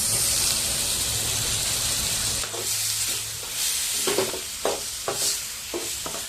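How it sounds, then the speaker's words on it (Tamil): Dried fish frying in hot oil, giving a loud steady sizzle that drops away partway through, after which scattered scraping stir sounds and bursts of crackle follow. "ஃபஸ்ட்டில் கருவாடு எண்ணெயில் போடலாம்"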